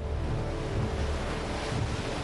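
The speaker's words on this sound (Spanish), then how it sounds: "Actualmente las bañan las olas." Mediterranean sea waves wash into coastal caves on Gibraltar, a steady, dense roar of surf with wind rumble and no distinct breaks, loud and continuous throughout.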